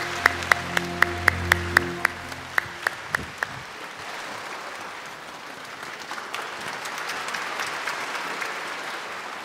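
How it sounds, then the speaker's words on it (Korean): Brief rhythmic ticking with sustained tones opens the clip, then a church congregation bursts into broad, steady applause that keeps going to the end. "우리 박수로 맞이하겠습니다"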